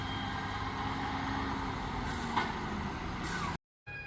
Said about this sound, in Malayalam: അവിടുന്ന് ഒരു ടിപ്പറൊക്കെ കയറി വരുന്നുണ്ടോ